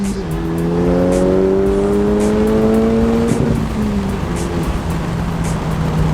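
Honda Civic Type R fitted with a PRL catless downpipe, engine revving close and loud: the pitch climbs steadily for about three seconds, then drops back to a steady drone, with a dense rasp throughout.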